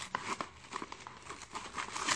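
Plastic trash bags from a 2017 French RCIR combat ration pack crinkle and rustle up close in quick, irregular bursts, with no voices.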